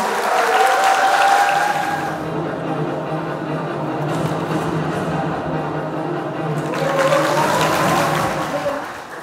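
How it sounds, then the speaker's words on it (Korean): Loud, close applause from an audience greeting a middle-school speech contestant, continuous clapping for about nine seconds with a brief surge near the start and another toward the end. "큰 박수로 맞아주시기 바랍니다"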